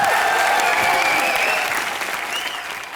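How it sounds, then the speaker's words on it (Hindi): A studio audience at a comedy show breaks into loud, dense applause that holds steady and then gradually fades, with faint tonal music underneath. "जोरदार तालियां"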